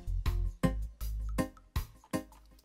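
A reggae guitar playing double-skank offbeat chops through a ping-pong delay: short, bright, choppy strums in pairs, repeating in a bouncy rhythm with echoes trailing between hits, alone.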